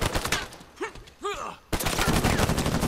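Gunfire in Uncharted 4 multiplayer: a dense burst of rapid shots fills the start, broken by two short upward-sweeping whooshes, then heavy continuous firing resumes loud and close for the rest.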